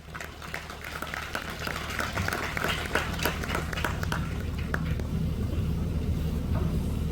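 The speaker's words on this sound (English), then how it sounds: "let's all give a huge round of applause for the man himself" A festival crowd gives dense, sustained applause to welcome the chief event manager, heard from a distance over a steady low rumble, with no single claps standing out.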